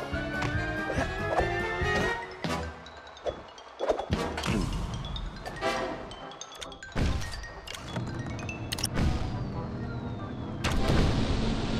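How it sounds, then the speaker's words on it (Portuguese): Cannon fire and impacts in the PS3 video game Sly 4: Thieves in Time, with repeated booming blasts and thuds scattered among game music and effects. "Só gostava de saber onde vão parar todas estas balas de canhão."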